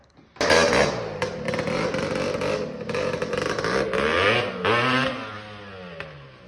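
A Honda ATC 350X three-wheeler engine runs wide open, roaring loud and close with a steady, slightly rough revving drone that swells and dips before cutting off near the end.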